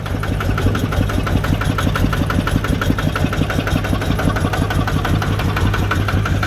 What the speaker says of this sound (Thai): ตัวนี้ใช้เครื่องยนต์คูบูต้าใหม่ล่า สุดเลยครับ